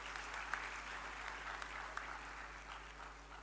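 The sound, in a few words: graduation audience applause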